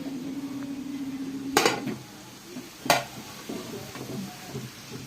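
Grated carrot and bottle gourd are stirred in a pan for halwa over a medium flame, giving soft scraping under faint sizzling, with two sharp utensil clanks against the pan.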